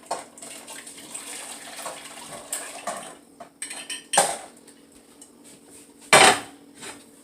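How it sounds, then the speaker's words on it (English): Pineapple honey glaze poured into a cooking pot, with scattered clinks and scrapes of utensils against the pot and a sharp metallic clatter near the end, no voices. "I go ahead and pour that over into my pot."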